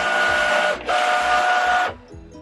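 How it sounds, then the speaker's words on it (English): A Cricut cutting machine loads and scans a cutting mat, giving two bursts of whirring motor noise with a high tone, separated by a short pause, then a few softer mechanical clicks as it stops. "I'm gonna load my mat. It's gonna scan it."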